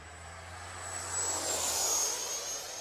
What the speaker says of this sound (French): on rend la main, on met du gaz.